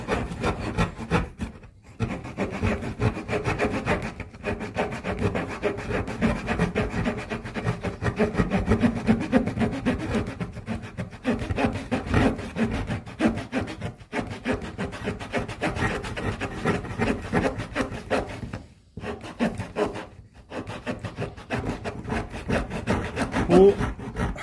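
A Swiss army knife's small saw cutting through a hard cherry tree branch, giving a close, steady back-and-forth rasping with brief pauses between strokes.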